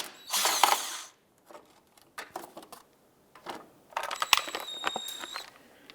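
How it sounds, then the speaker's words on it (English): A power driver with a T27 Torx bit backs out two screws holding the splash shield on a 2011-2019 Ford Fiesta, giving short whirring bursts separated by pauses, with faint clicks and rattles close by. "We're going to use our T27 Torx bit to go ahead and remove these two screws here."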